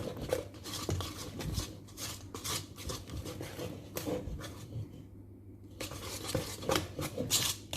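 Cake rusk batter being mixed in a bowl: steady scraping, tapping strokes of a utensil against the bowl, repeating irregularly, close and moderately quiet, with a brief lull midway.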